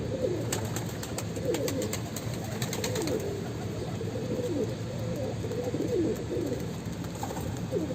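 Pigeons coo in soft, repeated throaty phrases over a steady background hum, with faint clicks and rustling nearby.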